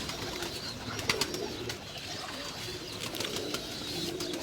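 Pigeons coo on a rooftop loft, soft repeated calls under a steady outdoor hiss with a few sharp chirps and wing-like rustles, moderately near.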